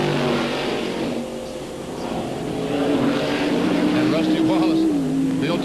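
A race car at the 1997 Bud at The Glen NASCAR road-course race powers down the backstretch, its engine droning steadily and rising in pitch, under continuous race commentary.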